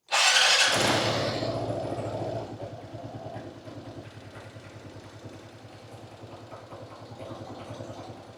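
An Aprilia SR 150 scooter's small engine sputters to life with a sharp burst just after an oil change, then settles into a steady, rapid idle nearby.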